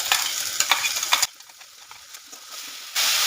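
Ginger, garlic and green chilli paste hits frying onions in a pan: lively sizzling with stirring scrapes, then a sudden drop to a quieter simmer before a loud hiss returns at the end.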